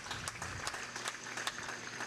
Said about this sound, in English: And a nice round of applause as they load up the Ottawa Pirate player